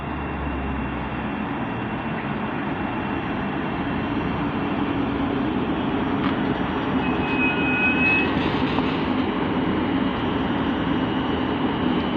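A Thameslink Class 700 electric train rumbles steadily past a station platform at Hendon, a continuous loud roar of wheels and motors that holds level throughout with no voices.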